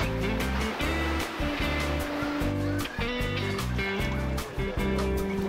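Ocean waves wash steadily and loudly at a swimming hole in Thailand on a very hot day, a continuous rushing surge with brief dips, heard up close with no talking.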